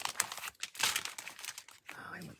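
Paper or plastic crinkles and rustles in a burst of handling noises while a voice speaks quietly over it, with vintage checks and receipts being gathered for a document journal.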